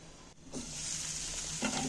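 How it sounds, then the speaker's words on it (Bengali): Vegetables such as onion and tomato sizzle steadily in very little oil inside a covered pan, a continuous soft crackle and hiss with a brief dip where the lid shifts. "একটু চাপা দিয়ে দিয়ে নাড়াচাড়া করে ভেজে নেব"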